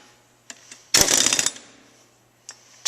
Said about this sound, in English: I need to use my air wrench to tighten those up